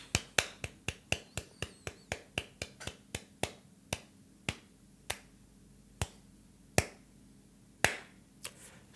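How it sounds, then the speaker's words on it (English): A single person claps, sharp isolated claps starting in a quick run of about a dozen and then thinning out to sparse, uneven hits, fairly close and alone with no talk. "Let me clap."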